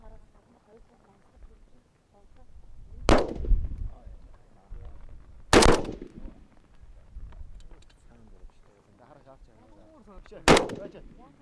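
Three loud gunshots ring out several seconds apart, sharp cracks with echoing tails, while people talk quietly in between.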